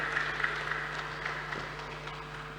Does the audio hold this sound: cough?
no